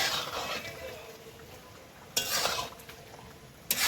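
Chicken stir-frying with spice paste in a pan makes a low sizzle, broken by two sharp scrapes and clatters of a spatula against the pan.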